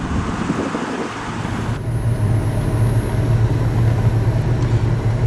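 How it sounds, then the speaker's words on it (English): A 1989 Cadillac Fleetwood with 42K original miles in factory condition rolls along on a test drive, giving a steady broadband road and engine rumble that holds even throughout, heard from inside the car. "now we're going to test drive this 1989 Seville Fleetwood edition"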